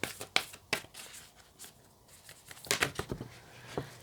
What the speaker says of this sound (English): These cards are so awkward to shuffle.